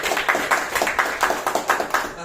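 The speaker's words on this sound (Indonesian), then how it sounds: "Tepuk tangan lu tuh." A group of people claps hands in a lecture setting, giving a quick, steady burst of rhythmic claps at moderate distance over a couple of seconds.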